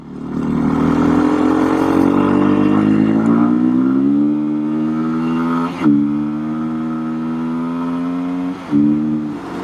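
A Beta 390 RS dual-sport motorcycle is ridden on a sunny Iowa day, its engine a loud, steady drone whose pitch climbs as it accelerates, broken by two brief dips where the rider shifts gears.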